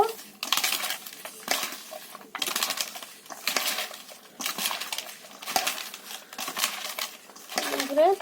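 Banana stem being hand-mixed with salt and turmeric powder, giving close, repeated squelchy crunching and rustling in uneven bursts, with short gaps between them and a faint voice near the end.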